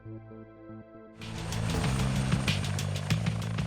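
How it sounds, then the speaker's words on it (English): A Eurocopter 135 police helicopter flies overhead, its rotor and engine rising from a low droning hum into a loud, dense whirring roar with rhythmic blade thumping that holds steady. "The Eurocopter 135 is the chopper of choice for the Interceptors."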